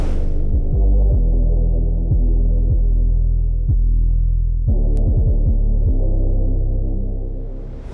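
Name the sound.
808 bass pattern playing in a beat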